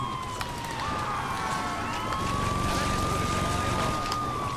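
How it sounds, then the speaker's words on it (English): A vehicle siren in the Saints Row 2 video game wails with a steady tone over loud, continuous engine and road noise throughout. "Get the fucking sirens on, and let's continue on."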